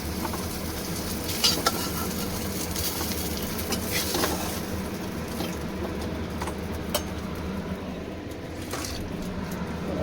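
Koi fish frying in hot oil, a continuous close sizzle and crackle with a few sharper pops and spatters over the length of the clip.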